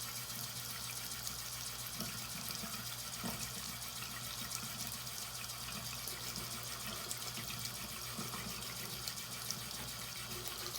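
Warm water runs steadily from a tap to soak a washcloth, a continuous faint splashing stream with no talk over it.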